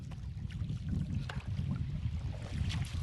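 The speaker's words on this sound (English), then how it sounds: "So that way you can paddle on the one side of the canoe and go straight the whole time." Paddle strokes on a canoe moving along the Petawawa River make soft, close splashes and water swishes in an irregular rhythm, with faint wind noise on the microphone.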